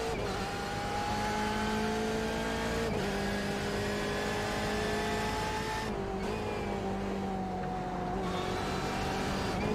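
A GT1 race car lapping Barber Motorsport Park, its engine a loud sustained tone that rises steadily through the gears and dips briefly at shifts, heard continuously from onboard.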